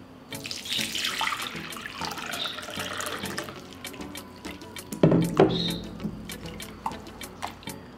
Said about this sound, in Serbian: Opraću limun pod mlazom hladne vode.